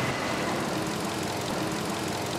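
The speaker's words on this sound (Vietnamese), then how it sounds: "Đây là khoang máy, khoang động cơ của em, nó máy đang nổ ha." Under the open hood, the engine of a Hyundai Accent automatic hatchback idles with a steady, close, even rumble and faint mechanical ticking. The sound runs unbroken and no one speaks.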